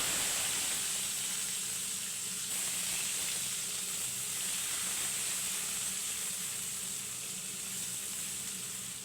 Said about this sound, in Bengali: এবার আগে থেকে টুকরো করে রাখা পেঁয়াজ কুচিগুলো দিয়ে দেব